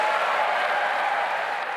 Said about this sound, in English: Applause for this Prime Minister rare these days.